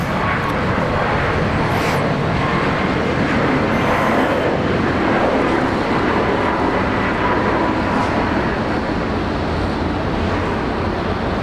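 An airliner takes off from runway 19 left at Brisbane International Airport, a loud, steady jet roar with broadband rumble holding across the whole stretch without talk.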